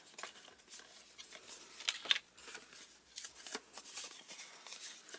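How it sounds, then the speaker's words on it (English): Scored card stock is burnished and folded. Faint, quick rubbing and crinkling strokes come in a loose series, quiet and close. "So now we'll burnish and fold all our score lines."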